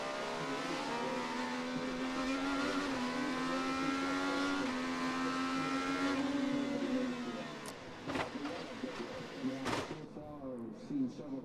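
A 2021 IndyCar race car at Barber Motorsports Park in Alabama, heard from onboard: a loud, high engine note holds and climbs for several seconds, then breaks into sharp bursts as revs drop and rise, with a commentator talking over it.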